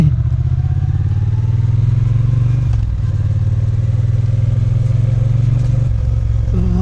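A Triumph Bonneville T120 1200cc motorcycle on its stock exhaust runs loud and close with a deep, steady rumbling throb, holding an even idle-to-cruise note with a brief dip partway through and no talking.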